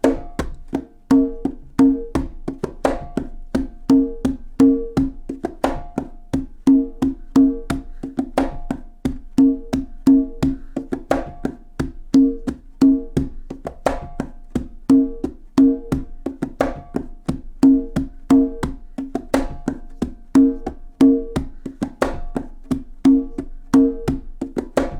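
Bolero rhythm played by hand on a drum with an added hit on the and of 2, a steady repeating pattern of close, crisp strokes and deeper resonant tones for about 25 seconds, no voices.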